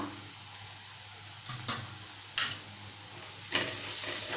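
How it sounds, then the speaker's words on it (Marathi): Onion, tomato, turmeric and Malvani masala sautéing in a pan for a clam curry, a soft sizzle with occasional spoon scrapes and a sharp clink, then a louder burst of frying hiss near the end. "परतून घेऊया मसाले छान मिक्स करून घ्यायचे"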